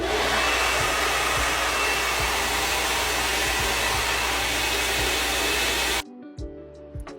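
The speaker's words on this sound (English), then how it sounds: "I'm going to take my small round brush and my blow dryer and start to go" A hair dryer roars steadily at close range for about six seconds while blow drying hair with a small round brush, then cuts off, leaving faint clicks and handling sounds.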